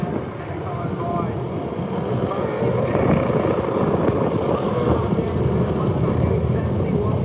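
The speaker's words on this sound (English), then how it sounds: "You can hear the high revs as they launch a practice" V8 Supercars launching at high revs during practice at Bathurst, heard as a dense, continuous engine roar from a distance, blended with crowd and wind noise at a steady loud level.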